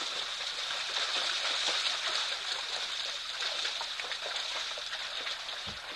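Elephants wading into a waterhole and spraying water, heard as a steady close wash of splashing and trickling water with no talk.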